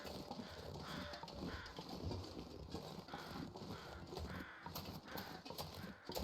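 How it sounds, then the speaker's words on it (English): Crows caw as they fly over in the snowy survival video game The Long Dark, harsh calls repeating faintly over a low, steady ambient wash. "The flyover birds."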